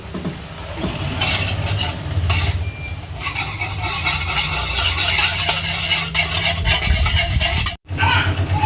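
Pancake batter made with raw milk being stirred in a bowl, a loud, close, continuous scraping and swishing with some clinks against the bowl.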